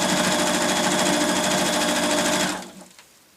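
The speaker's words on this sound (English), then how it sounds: "sew across the bottom with about a 1/4 inch seam allowance" Sewing machine stitching a 1/4 inch seam across the bottom of a patchwork cosmetic bag, a fast even mechanical whirr for about two and a half seconds that stops abruptly, followed by a quiet handling click.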